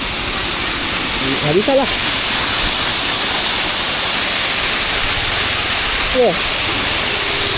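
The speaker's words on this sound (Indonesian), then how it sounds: "Di tepi jalan loh ada air terjun." Steady broadband rush of a roadside waterfall pours continuously and fairly loud, with brief excited voices speaking over it twice.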